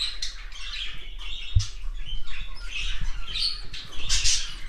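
Albino budgerigar chicks in a nest give high, thin, close chirps and squeaky peeps in repeated bursts over a faint low hum, with no talk.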